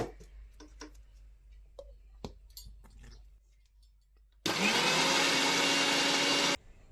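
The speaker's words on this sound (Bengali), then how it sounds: "তো এই দেখো আমরা একদম মিক্সিতে খুব সুন্দরভাবে একদম স্মুথ একটা পেস্ট করে নিয়ে চলে এসেছি" A mixer grinder whirs loudly for about two seconds as it blends Oreo biscuit ice cream paste with a little sugar, a dense steady roar that stops abruptly after scattered clicks and taps.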